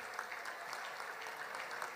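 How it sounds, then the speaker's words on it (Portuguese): An audience applauds a club president with steady, soft, continuous clapping, faint and somewhat distant, filling the short moment without voices. "ao presidente, que honra, Rui Alves, uma salva de palmas para ele."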